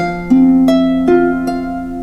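A harp's left-hand pattern sounds under the melody, with several plucked notes entering one after another at a steady pace, their tones ringing and overlapping, close and clear, with no voices.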